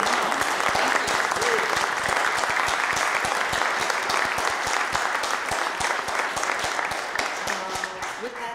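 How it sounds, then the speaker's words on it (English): A room full of men and women gives a sustained round of applause at a formal event, many hands clapping loudly and evenly throughout before the sound begins to thin slightly near the end. "Can we give a round of applause to all the great men and women in this room?"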